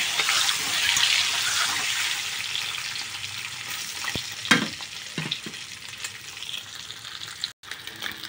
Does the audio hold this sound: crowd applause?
no